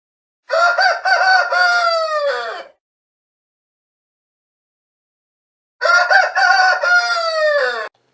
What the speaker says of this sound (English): Can you find the rooster?